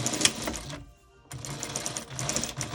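A sewing machine stitches a fabric face mask, running in a loud, rapid mechanical chatter that stops briefly for a moment of near quiet, then starts again and keeps going.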